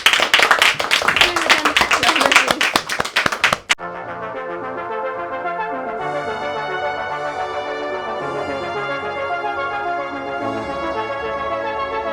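A live studio audience at the TORE conference claps loudly for nearly four seconds, a dense run of sharp hand claps that cuts off abruptly as steady music takes over.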